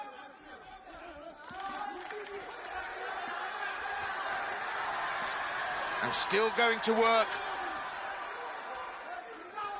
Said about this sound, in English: Crowd in appreciation of this Herculean performance from Kvashnikov